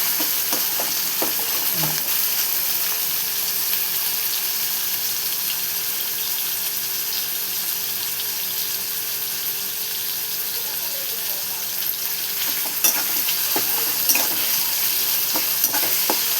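Onion and potato fry until browned in a pan for a radish vegetable dish, producing a long, steady, close sizzle with occasional stirring clicks and scrapes toward the end.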